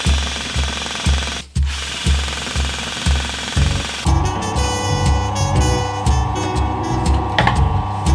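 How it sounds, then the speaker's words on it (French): An old hole saw, about seventy years old, drilling, a loud, strongly pulsing mechanical hammering with a regular rhythm, a brief pause, then harsher grinding with a steady whine. "Du coup, on va utiliser une scie cloche."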